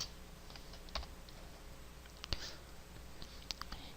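A computer keyboard is pressed for Excel shortcuts: a few sparse, soft key clicks and taps, faint and close, spread irregularly over a quiet background.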